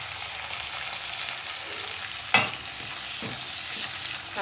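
Vegetables and tomato are sautéed in oil for sambar, with a quiet steady sizzle and gentle stirring, broken by one sharp clink of a utensil against the pan.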